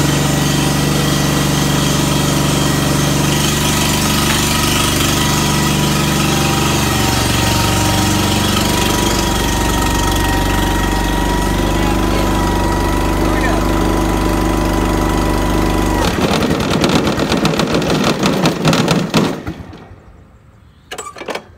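The engine of a Scag Turf Tiger mower runs loud and close with a rough, steady idle, then sputters and dies near the end, followed by brief faint noises.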